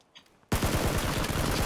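Gunfire in the PUBG video game: after a short quiet moment, a loud burst of rapid automatic shots erupts and continues in a fast, close rhythm to the end.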